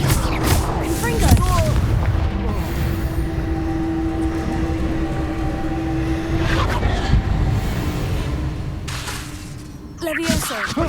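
Confringo fire spells explode in the video game Hogwarts Legacy as a series of booming, crackling blasts over continuous combat noise, with voices speaking at times.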